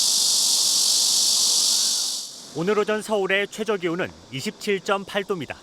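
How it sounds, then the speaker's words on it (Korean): Cicadas drone loudly and steadily in an empty park on a scorching summer morning, a dense hissing buzz that fades out as a voice starts talking. "인적 없는 공원엔 매미 울음소리만 쩌렁쩌렁 울립니다."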